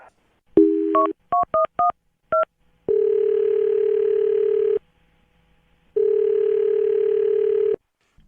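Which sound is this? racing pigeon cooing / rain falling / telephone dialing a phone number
telephone dialing a phone number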